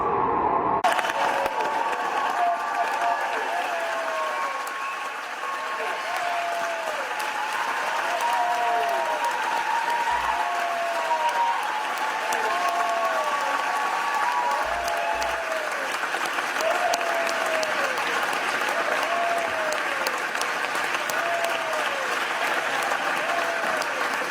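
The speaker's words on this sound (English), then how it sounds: "Even the chair applauded him." Sustained applause from a crowd in the Senate chamber, a dense steady roll of clapping lasting the whole time, with faint voices beneath it.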